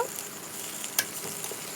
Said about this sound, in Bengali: এবার আমি অল্প একটুখানি জল দেব।